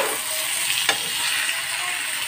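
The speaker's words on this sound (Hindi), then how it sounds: "तो इन सबको मिलाने डालने के बाद अब मैं इसे करूँगी मिक्स" Tomatoes, peas and spices sizzle and fry in a hot kadai as they are stirred, a steady bright crackle with a brief scraping clink near the start, close and continuous with no talking.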